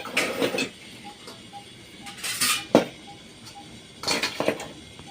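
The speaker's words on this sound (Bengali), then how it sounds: "থালাটাকে আমি নামিয়ে নিয়েছি তো বাটিটাকে নামিয়ে দিচ্ছি চারটে বাটিকে" Bowls and a plate of a homemade rice-flour breakfast snack being lifted down and set out, giving several separate clinks and knocks of crockery spaced over a few seconds, fairly close, with no talking.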